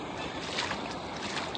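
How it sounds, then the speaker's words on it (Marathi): Stream water rushes strongly past in a dense, steady wash of broadband noise, close and continuous for a brief moment with no voices. "पाणी एकदम जोरात वाहत आहे"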